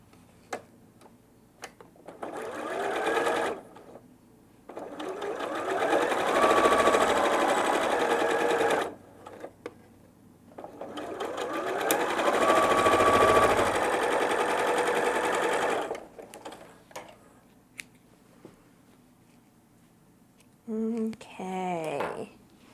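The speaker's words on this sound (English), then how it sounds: "I'm going to put it into the machine with the bias side down." A sewing machine stitches a fabric accent strip for a quilt, running in two long steady bursts of rapid mechanical whirring separated by quiet pauses, with brief clicks of handling and a short stretch of talk at the end.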